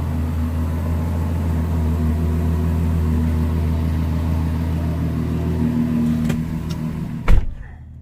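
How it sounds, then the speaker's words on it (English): A Ferrari GTC4Lusso engine on a cold start with a Novatech full exhaust, a steady loud rumbling idle for about seven seconds, then a sharp thump as it cuts off into near silence. "that was a cold start on Novatech"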